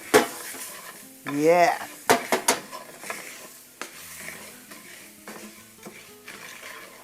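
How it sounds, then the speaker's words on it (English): Minced garlic and onions being stirred in a pan, soft clinks and scrapes of a utensil against the pan over a faint sizzle, close and quiet, with a brief spoken word. "And stir it up."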